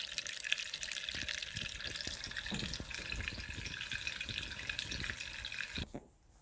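Water pours steadily from a can into a jug for about six seconds, a continuous close splashing stream that stops abruptly near the end.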